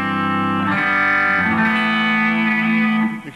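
An electric guitar with all the midrange dialed out sustains a thick, buzzy chord through effects, loud and alone for a few seconds, with the tone shifting partway through before the ring cuts off.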